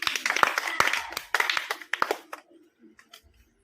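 A group claps together in a number-guessing challenge game, producing a run of sharp, close claps in quick bursts that thin out into sparse, quieter taps.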